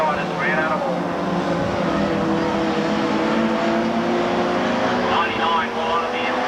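Standard saloon race cars roar around the dirt oval at Drouin Speedway during a 1994 ladies state title heat, engines droning and shifting pitch continuously while a commentator talks over them.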